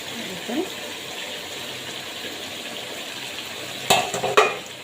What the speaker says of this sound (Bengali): আমি এখন নাড়া দিয়ে দিব, 10 মিনিট রান্না করছি।